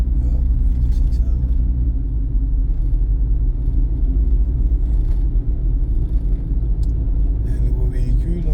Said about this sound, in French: Il y a un nouveau véhicule dans le passage